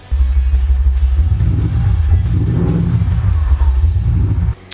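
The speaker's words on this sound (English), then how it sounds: "it's also got a speaker in the exhaust, so it sounds like a V8" A Maserati's exhaust, boosted by a speaker to sound like a V8, gives a deep, loud, close rumble that pulses and surges for several seconds before cutting off abruptly.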